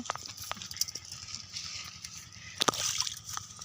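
Rice being washed by hand in a pot during an outdoor picnic feast gives quiet, uneven sloshing and light clattering splashes, with a few sharper knocks, all fairly faint and close.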